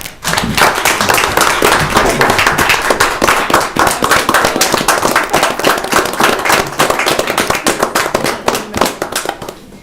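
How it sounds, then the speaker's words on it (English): A council meeting audience gives a loud, dense round of applause, many hands clapping rapidly and continuously close by for the whole stretch. "I think you deserve another round of applause"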